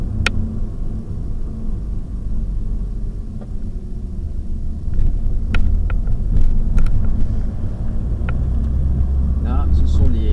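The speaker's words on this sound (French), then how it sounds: "à froid, le moteur s'avère quand même assez bruyant" A cold Opel Vectra 2.0 DTI 100 hp diesel idles with a deep, steady, loud rumble throughout, with a few faint clicks over it and no voices heard.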